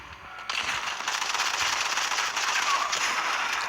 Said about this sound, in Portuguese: eu comecei a atirar nele